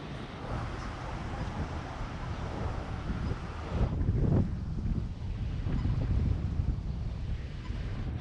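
Gusty wind buffeting the microphone in Wellington City, a steady low roar that swells in a stronger gust around the middle, with no voices.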